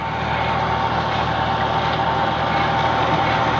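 A John Deere 5310 tractor pulling a GS Agro super seeder during wheat sowing runs with a steady, loud, unbroken engine drone, close by with no talking.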